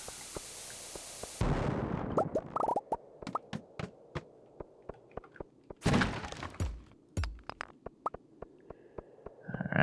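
Bombs go off in the Stardew Valley mines, giving a string of short, sharp thumps and pops, with a couple of bigger booming bursts among many smaller knocks spread unevenly over ten seconds.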